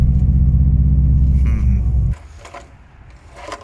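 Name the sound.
Subaru Impreza WRX engine running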